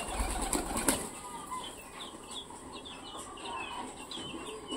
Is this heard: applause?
no